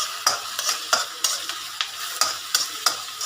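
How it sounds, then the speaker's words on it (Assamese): Onions fry in a small amount of oil for an Assamese-style goat meat curry. A spoon stirs them in steady, rhythmic scrapes over a soft sizzle, heard close with no talking. "পিঁয়াজটো সুন্দৰকৈ ভাজি আছোঁ"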